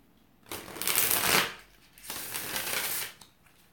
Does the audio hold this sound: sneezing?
no